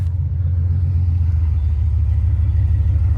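A Chevrolet El Camino pickup, running rough with bangs, idles as a loud, steady low engine rumble while backing in, close by with no talk.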